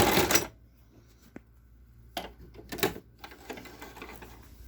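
A sewing machine backstitches a fabric face mask in a few short stitching bursts separated by quiet gaps, close by, with a faint rustle of cloth between runs.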